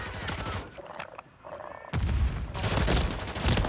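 Rapid bursts of gunfire in a chaotic multiplayer shooter match, loud and dense, with a brief lull before the volleys return heavier.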